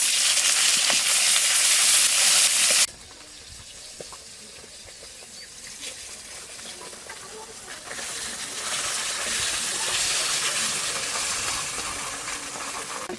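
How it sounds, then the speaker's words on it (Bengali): Fish fry in oil with a loud, dense sizzle that cuts off abruptly, then a quieter crackling resumes and gradually builds back to a steady close hiss with scattered pops. "এবার বাকি মাছগুলো ভেজে নেব।"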